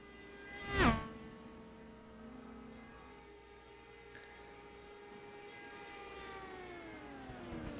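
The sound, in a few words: high-pitched whirring of Richard West's Dallara IR05 race car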